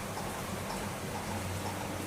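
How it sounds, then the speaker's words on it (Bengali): Heavy rain pouring down on a July afternoon, a steady dense hiss of drops filling the whole clip at moderate level with no breaks and no voices. "দেখো আজকে কিরকম মুষলধারে বৃষ্টি হচ্ছে এই সময়।"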